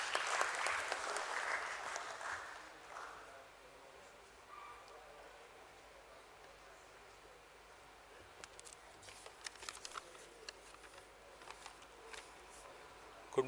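Applause from the audience at a stock exchange listing ceremony for Meson Valves India Limited at BSE, strongest in the first few seconds and then thinning to faint scattered claps and small clicks across a quiet hall.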